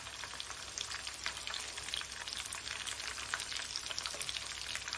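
A batter of corn kernels, flour and water fries in about a centimetre of oil in a frying pan, giving a continuous close crackling sizzle dotted with small pops, with no talking.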